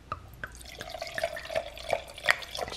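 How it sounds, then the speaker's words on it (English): Wine pours into a glass in small glugs and splashes, a faint ringing tone rising under the drips, close and quiet. "I was gonna just pour the whole bottle."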